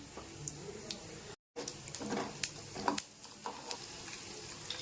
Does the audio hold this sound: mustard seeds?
yes